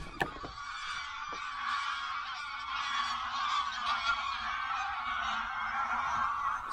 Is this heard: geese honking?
yes